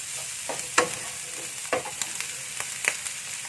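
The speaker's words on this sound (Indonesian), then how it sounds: "Masukkan telurnya. Aduk rata kembali." A utensil stirs scrambled eggs with green beans and dried shrimp in a pan, a soft sizzle underneath broken by several scraping strokes spread across a few seconds.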